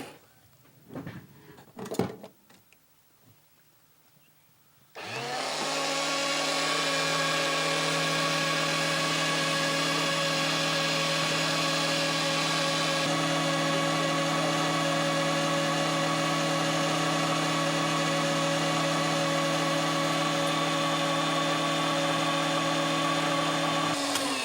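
A Sikorsky Air Crane heavy-lift helicopter sits at Wendell Tower. After a few faint knocks and bumps, a loud, steady turbine drone with strong humming tones starts abruptly and holds unchanged for about twenty seconds.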